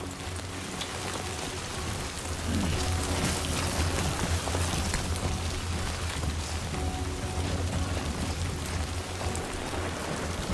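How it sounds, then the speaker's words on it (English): Steady, heavy rain falling in the video game Death Stranding 2, a dense continuous hiss of drops that holds evenly throughout with no voices. "Rain. Gotta move."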